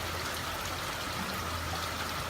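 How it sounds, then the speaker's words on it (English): Storm rainwater from Cyclone Debbie pouring down a water tank, a steady broadband rush and splash of running water, moderately distant and unbroken, with no voices. "Water everywhere, coming down our water tank."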